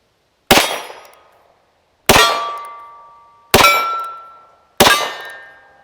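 Four sharp shots from a Harrington and Richardson top-break .32 Short revolver fired single action, evenly spaced about a second and a half apart, each loud and close with a long ringing metallic decay, and no voices.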